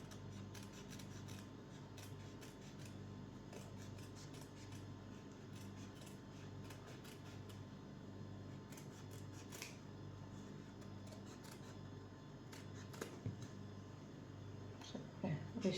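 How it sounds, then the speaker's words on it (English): Small scissors snip through felt in soft, close, irregular cuts over a quiet background hum, the snips growing a little louder toward the end. "Now we're going to cut this part."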